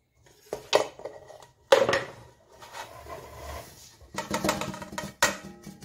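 Groundnuts, homegrown, go into a pan with several sharp clatters and bursts of rattling, separated by quieter gaps, close up with no talking.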